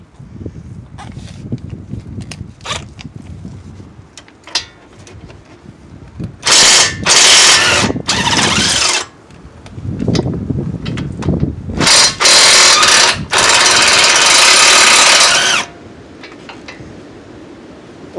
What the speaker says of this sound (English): We're gonna loosen those two big bolts. Put my impact socket here,